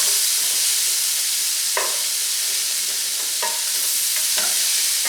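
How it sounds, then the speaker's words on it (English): Finely diced onion tossed in butter sizzles with a steady, close hiss, broken by a few soft stirring scrapes and clinks of the spoon; no one speaks. "Give this a toss to coat with the butter."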